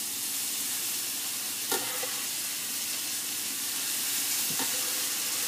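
Tomatoes hit a pan of vodka chicken and fry with a steady, soft sizzle and hiss, close but quiet, broken by a couple of brief clinks from a utensil.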